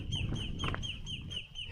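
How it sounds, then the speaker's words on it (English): An agitated bird calls repeatedly outside a cabin, a series of short, harsh, squawking cries in quick succession, moderately close over a low outdoor rumble. "There's an angry bird out here. He sees me and he doesn't like me."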